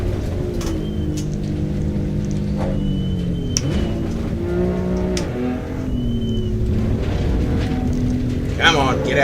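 Race car engines in iRacing drone and rise and fall in pitch as the cars accelerate and shift, a steady loud engine tone with a voice talking over it.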